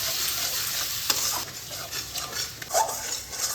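Whisked yogurt is stirred into fried spice masala for a jackfruit kofta curry, giving a bright, close hiss and sizzle with uneven scraping strokes of a spoon against the pan.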